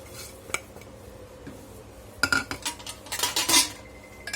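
Bhagar (barnyard millet) flour is stirred into boiling water in a pot on low heat, a spoon scraping and knocking against the metal in irregular bursts that grow busier toward the end.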